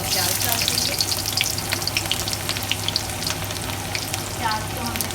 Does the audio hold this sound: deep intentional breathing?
no